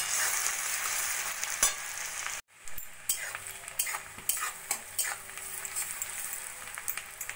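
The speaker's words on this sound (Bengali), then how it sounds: "পেঁয়াজটা একটু ভাজা ভাজা করে নেব।" Two medium onions, thinly sliced, fry with bay leaf in a pan, giving a steady close sizzle broken by repeated sharp scrapes and taps of a spoon stirring.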